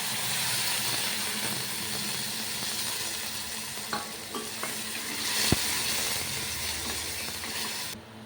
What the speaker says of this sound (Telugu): గట్టిగా ఉండే టమాటాలని మిక్సీ పట్టాను ఇది ప్యూరి పోస్తున్నాం